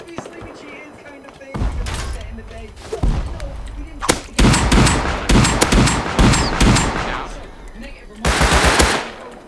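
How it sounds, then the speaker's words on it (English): SPAS shotgun blasts from a video game firefight come as loud, booming shots in quick bursts, mixed with other gunfire, while players talk over the action. "this guy just missed six spaz shots on me"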